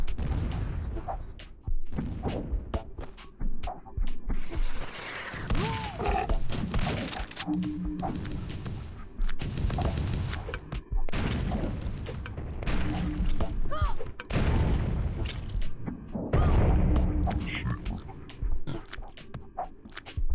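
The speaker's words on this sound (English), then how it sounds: "Who's shooting at me already?" Rapid gunfire bursts and heavy thuds from the shooter video game Zortch, dense and continuous over about twenty seconds, with short pauses between volleys.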